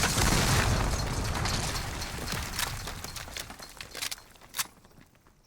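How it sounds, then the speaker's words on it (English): A bomb detonates in a competitive first-person shooter match: a loud, broad boom fills the opening second and a half, then rumbles and fades, with scattered sharp pops and a brief burst near the end before quieting. "The bomb is going to explode"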